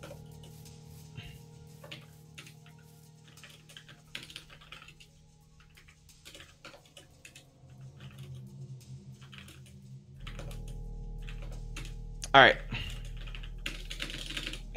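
Quick typing on a computer keyboard during a Minecraft bingo event: rapid light clicking in bursts through the clip, with someone briefly talking and a low background hum, plus one sharp louder knock near the end.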